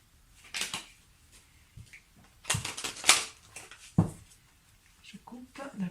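Tarot cards shuffled and cut by hand: a few short bursts of riffling, slapping card noise at close range, separated by quieter pauses, with a voice talking in between.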